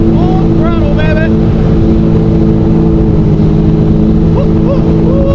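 A jet ski engine roars at full throttle on a lake, a loud, constant droning whine with wind and water rush, with a voice calling out briefly over it.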